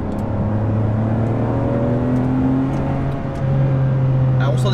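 Ferrari 599 HGTE accelerating in race mode, engine note rising as a strong, steady drone heard from inside the car, with someone talking briefly over it.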